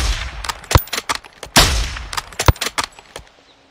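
Sharp, loud gunshots crack out in an irregular burst in a video game campaign, a sniper rifle among them, with several distinct reports and quick rattling shots, each trailing a brief echo, with no talking.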